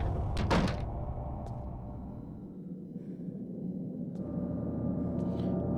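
A door opens in the horror video game Eternal Darkness: a sharp clank and scrape, then a low, heavy rumble that settles and swells again, with faint later knocks.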